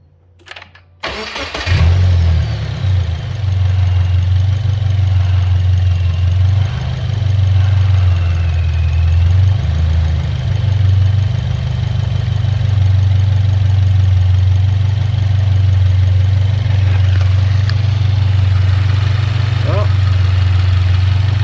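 A 2022 Subaru WRX engine cranks and fires after a brief quiet moment, then settles into a steady, loud idle that holds with little change for the rest of the time, close to the listener.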